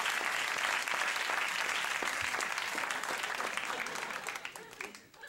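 A studio audience at a late-night talk show breaks into sustained applause, steady and dense for several seconds before beginning to taper off near the end, with a voice faintly underneath.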